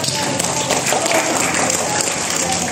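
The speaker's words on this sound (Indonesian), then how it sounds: "Tepuk tangan untuk semua perangkat desa." An audience applauds village officials at a virtual training opening, with sustained mixed clapping and crowd noise that sounds slightly distant and compressed.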